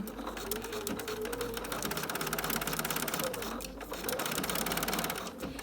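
A sewing machine stitches a paper-pieced quilt pattern, running in a steady, rapid mechanical chatter that continues almost without pause, close and fairly quiet.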